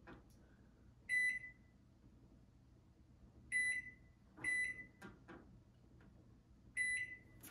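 Keypad beeps from a Sharp Carousel SMC0710BW microwave as buttons are pressed, four short clear electronic tones spread out with soft clicks between them, nearby and quiet with no one talking.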